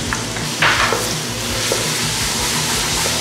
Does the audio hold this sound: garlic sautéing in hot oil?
yes